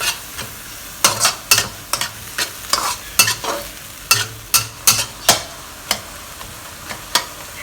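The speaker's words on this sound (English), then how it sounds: "We need to dry fry this until there's almost no liquid." Minced pork dry-fried in a pan until nearly no liquid remains: close, loud scraping and stirring strokes in an irregular rhythm of about a dozen, over a low steady sizzle, with no talking.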